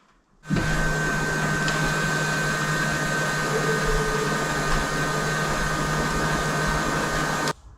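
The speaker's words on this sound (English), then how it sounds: "I swear I hear a leak in the back tank, like it's sucking air." Fuel pump on a Chevrolet 1500 with a suspected leak in the rear tank running steadily for about seven seconds, a loud, even mechanical whine and hum that starts and stops abruptly, with no talking.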